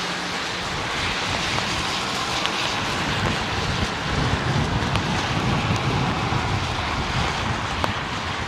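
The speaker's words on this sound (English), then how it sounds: "It's the wind, literally just the wind that's" Heavy wind buffeting a microphone outdoors at London Heathrow Airport, a dense, continuous roaring rumble with gusty low-end thumps that persist loudly for the whole stretch, with no voices.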